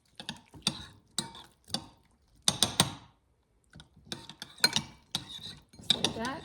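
Jalapeno pepper and onion being mixed for a grinder sandwich, a series of clinking, scraping utensil strokes against a dish in short bursts with brief pauses, close and fairly quiet.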